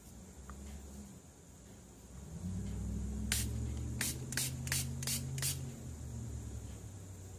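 Homemade rose gold shimmer paint mist is sprayed from a pump bottle in about six quick close bursts of hissing spray, set over a low background hum, with no talking.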